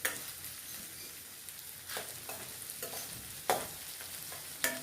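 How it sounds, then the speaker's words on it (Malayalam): Shallots sautéing in a pan for a varaal fish curry, a quiet steady sizzle punctuated by several sharp spoon scrapes and taps against the pan, with no voices. "ഒന്നുകൂടെ നമ്മുടെ ചുവന്നുള്ളി ഒന്ന് വഴന്ന് കിട്ടണം"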